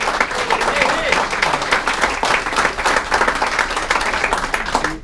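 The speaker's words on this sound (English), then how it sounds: "we certainly owe a real round of applause to the committee" Enthusiastic applause for the organizing committee at a Xavier 1966 class reunion dinner at the Colonial Inn, sustained loud clapping from a crowd filling the room, with some voices mixed in.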